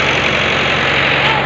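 The groom's car idles at a village wedding in India, a loud, steady engine rumble with a faint knocking pulse that continues unbroken at close range.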